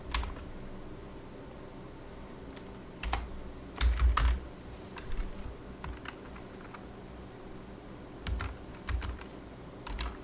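Typing on a computer keyboard while writing React form code, close clicking keystrokes in short bursts separated by pauses, with a faint steady hum underneath.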